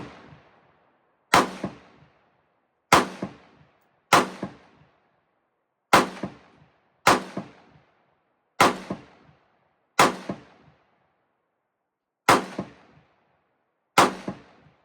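Rifle fire at an outdoor shooting range: nine sharp, loud single reports at a fairly steady pace about a second or so apart, each followed by a short ringing decay.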